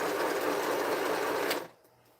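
A sewing machine stitches stretchy fabric in a steady, loud mechanical whir for about a second and a half, then stops abruptly into near silence.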